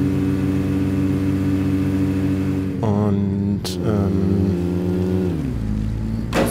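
A car engine in the video game State of Decay hums steadily, then revs up in two rising bursts and drops back to idle, loud and close with no speech.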